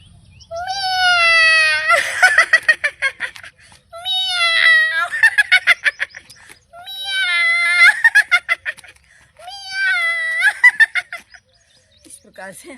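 A voice imitates a cat with long meowing wails, each followed by a burst of rhythmic laughter, repeated four times in a steady pattern, during a laughter yoga exercise.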